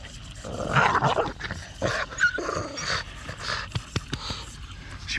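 A dog growls and pants while playing rough on a farm, with low rumbling growls, snorts and scuffling bursts close by, and no talking.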